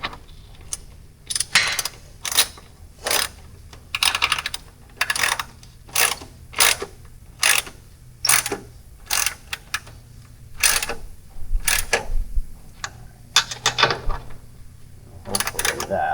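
Screws are tightened by hand into cheaply made lights on a jon boat, giving a steady run of close, short ratcheting clicks in bursts with brief pauses, continuing throughout.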